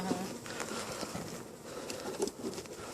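Honey bees buzzing around an open hive during an inspection, with a testy colony and smoke in use; a continuous near drone under light rustling and scattered soft knocks, with no talk.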